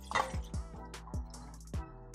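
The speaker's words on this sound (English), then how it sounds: "So I'm gonna pour that oil out." Excess cooking oil poured off a pan after frying onions, giving a run of separate drips and splashes at an irregular pace, close up, with no talk.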